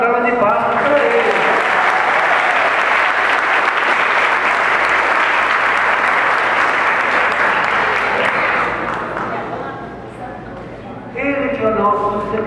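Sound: applause for a young man at a bishop's visit

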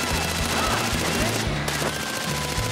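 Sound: gunfire in the video game Far Cry 4

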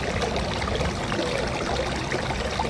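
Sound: running water, like a small stream

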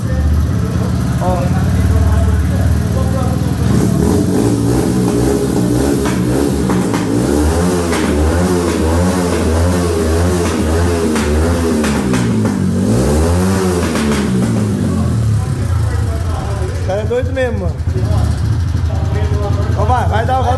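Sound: Honda Fan 125 motorcycle with 4mm piston, engine revving

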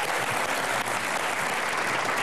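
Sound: studio audience applause

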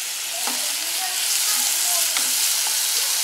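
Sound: zucchini frying in oil in a pan

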